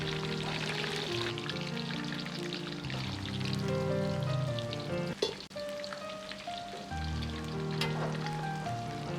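Pork ribs deep-fry in hot oil with a steady, dense sizzle and bubbling hiss that runs throughout, briefly disturbed by a clattering stir midway before settling back.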